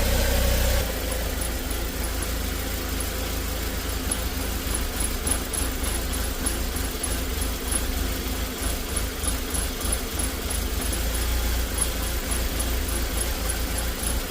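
A 2017 Joylong van engine idling roughly, its steady low rumble wavering and pulsing unevenly, loud and close throughout with no talk.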